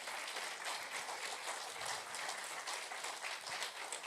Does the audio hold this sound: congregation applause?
yes